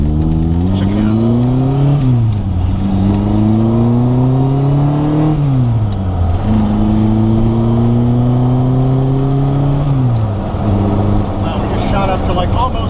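A 1969 Lotus Elan S4 engine revs up and shifts through several gears, pitch climbing and dropping repeatedly as it accelerates hard toward 60, loud and close.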